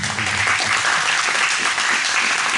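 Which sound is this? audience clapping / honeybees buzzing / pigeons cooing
audience clapping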